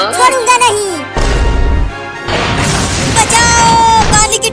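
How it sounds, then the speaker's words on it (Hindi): A cartoon water tank breaks apart in a series of loud booming crashes and splashing bursts, with cartoon voices shouting before and around the impact. "बचाओ, पानी की टंकी टूट गया।"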